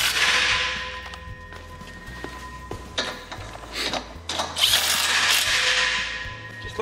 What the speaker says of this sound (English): We use a rattle gun, but they can be done by hand with a ratchet